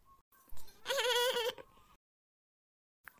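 A cartoon goat left grazing in a grassy spot gives one short, loud, wavering bleat, preceded by brief soft sounds and followed by silence.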